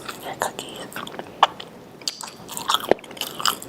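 Cookies being bitten and chewed close up, a series of crisp crunches and soft mouth clicks in an irregular rhythm, with faint whispery voice sounds in between.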